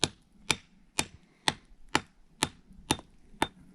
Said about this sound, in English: you're chipping out the old cement from the 70s